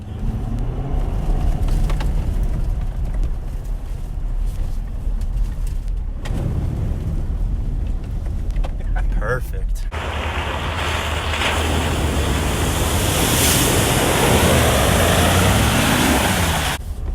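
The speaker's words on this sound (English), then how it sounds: "The faster you go, the bigger the splash is." A 2020 Ford Super Duty Tremor pickup drives off-road through water at around 25 to 30 mph, its steady engine rumble giving way to a loud, sustained rushing splash and spray that dominates the second half, with no talk.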